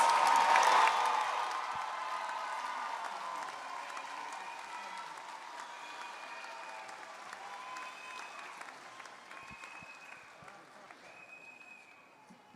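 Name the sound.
applause for university commencement graduates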